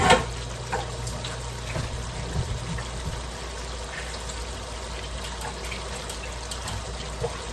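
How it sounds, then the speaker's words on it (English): Liquid drains from canned mushrooms in a kitchen, a steady close trickling and splashing flow that runs unbroken throughout with no talk. "Drain the mushrooms, I'm going to drain these."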